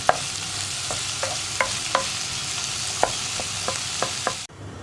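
Thinly sliced ivy gourd and okra frying in a pan over low flame for a Kerala mezhukkupuratti: a soft, even sizzle broken by a dozen sharp spatula taps and clicks, close up, ending abruptly, with no voices.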